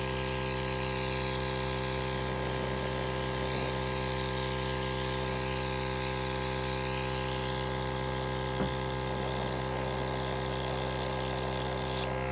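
Steady airbrush hiss laying a thin, translucent coat of paint onto a large model of a French chateau during weathering, continuous and close with no talking.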